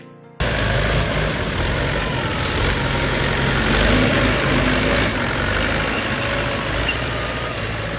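A John Deere farm tractor engine starts abruptly and runs loud and close, a steady low drone with a slight rise in the middle.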